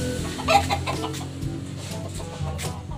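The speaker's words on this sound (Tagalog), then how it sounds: "Yan mga kalapatid, may manok." A chicken clucks a few times close by, short bursts over a low background hum.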